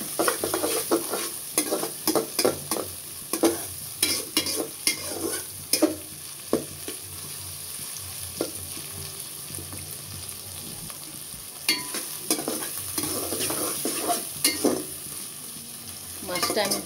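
Bottle gourd curry fries in extra oil with a steady sizzle, while a spoon scrapes and stirs through the pan in irregular bursts of clattering strokes, close up and moderately loud.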